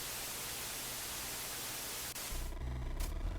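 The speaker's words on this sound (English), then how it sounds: "Static." Steady broadband hiss of truck radio static in a video game fills most of the clip, then cuts out into low rumbling tones near the end.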